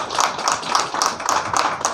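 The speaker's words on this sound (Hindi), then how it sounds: "इनके लिए भी जोरदार तालियां चाहिए" Rhythmic clapping at a public gathering, regular beats about four per second, moderately loud and close with no speech over it.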